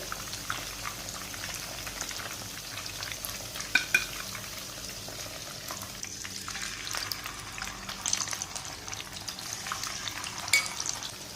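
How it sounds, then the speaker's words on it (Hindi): Chicken pieces frying in a pan over a medium flame, a steady close sizzle that runs the whole time with occasional stirring scrapes and small pops. "तो इसी तरह सारी चिकन फ्राई कर लेते हैं।"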